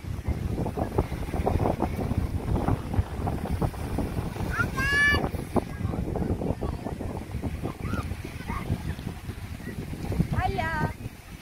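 Steady wind buffets the microphone by the sea, with waves washing in the background and a voice speaking briefly over it.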